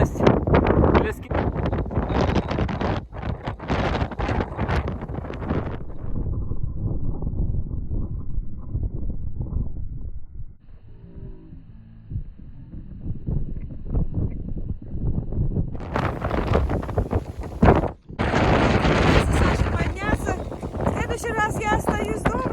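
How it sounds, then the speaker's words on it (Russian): Strong, gusty wind buffets the microphone on a mountain ski tour in the Italian Alps near Ponziore and Cavagnolo, a continuous rough roar with people talking over it throughout. "Солнце закончилось, начался дикий ветер."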